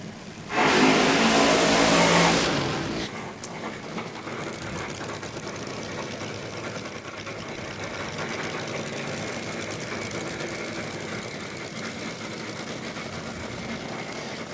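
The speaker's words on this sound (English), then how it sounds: "now you can hear the sounds of what can only be described of nitromethane top fuel dragster time" A nitromethane top fuel dragster at a drag racing raceway lets out a brief, very loud blast that then settles into a continuous rough engine roar, heard from a distance.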